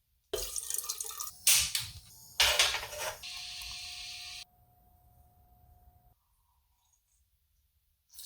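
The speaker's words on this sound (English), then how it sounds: "Just got to fill that up with some hot water and let it soak" Hot water pours into a carton of dried hash browns in short, close bursts of splashing with pauses between, then a quieter trickle that fades to near silence.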